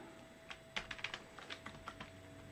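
Light clicks of a computer keyboard as a command is typed on a Raspberry Pi 4, a quick irregular burst of about a dozen soft keystrokes heard close and alone over a faint steady hum.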